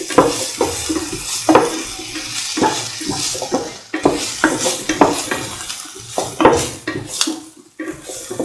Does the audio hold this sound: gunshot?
no